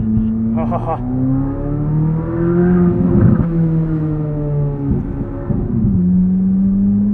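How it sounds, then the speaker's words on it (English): A 2023 Chevrolet Corvette Z06 engine rumbles at low revs, with crackling pops and burbles from the exhaust on the overrun as the throttle lifts, heard from close by. "Cool pops and burbles on the overrun."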